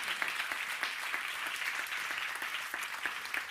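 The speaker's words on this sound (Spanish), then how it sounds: "Un aplauso para ellos" Audience at an entrepreneurship awards ceremony in the Basque Country applauding, a continuous even crackle of many hands, fairly soft and distant, lasting a few seconds without talk.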